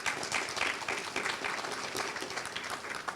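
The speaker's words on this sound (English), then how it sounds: "a round of applause for them." An audience at a chamber of commerce leadership event breaks into applause for board members, a moderately loud, dense burst of many hands clapping that holds steady throughout.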